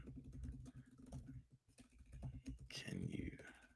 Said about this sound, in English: I'm typing in.